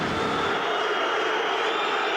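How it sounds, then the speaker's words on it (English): Sustained roar of booing from a large football crowd at Blackburn Rovers versus Arsenal in 1998, following a save by goalkeeper Tim Flowers; a dense, steady wash of voices fills the stadium throughout, with no clear commentary over it. "Well, there's boos from the crowd."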